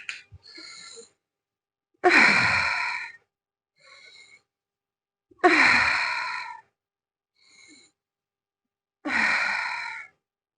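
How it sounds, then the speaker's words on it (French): Three deep, slow breaths taken during a Tibetan rites exercise routine, each a long drawn inhale-exhale sigh spaced a few seconds apart, with faint shorter breaths between them, close and alone without talk. "on fait 3 grandes respirations"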